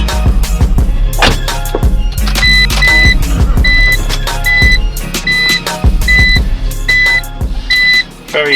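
A BMW Z4 3.0 SMG E85 roadster drives with the roof closed, its engine rumbling steadily and loudly close by, while repeated electronic chimes and beeps ring out over the running noise.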